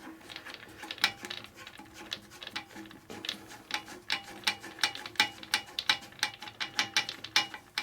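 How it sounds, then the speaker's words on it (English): A plastic nut on a toilet flush valve is turned by hand, giving a run of quick ratcheting clicks and small plastic ticks that grow denser and louder toward the end, close and without talk. "So I'm taking this plastic nut off."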